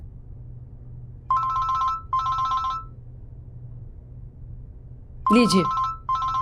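A telephone rings in repeated double trills over a low background hum, with a short spoken word breaking in between the rings.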